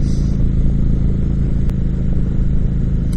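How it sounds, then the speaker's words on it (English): A 2018 Indian Chieftain motorcycle engine rumbles steadily and loud, a low throbbing drone with some rattle, heard while riding. "Just what a powerful motorcycle. It really is very fun to ride."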